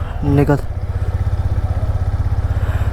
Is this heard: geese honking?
no